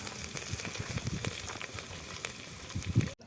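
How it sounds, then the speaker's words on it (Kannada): Fenugreek leaves, onion and green chili frying in a pan while stirred, a steady soft sizzle with scattered crackles and light scraping, fairly quiet and ending abruptly. "ಮೆಂತ್ಯ ಸೊಪ್ಪು ಬೇಯೋವರೆಗೂ ಅಲ್ಲಾಡಿಸ್ಕೋಬೇಕು"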